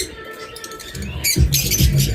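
Caged pet birds (lovebirds, cockatiels and budgerigars) give a quick burst of loud, close, harsh squawks and chirps over a soft background of chatter.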